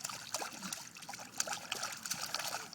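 Water trickles and splashes steadily into a bath, a continuous bright dribbling with small irregular splashes close by, no speech over it.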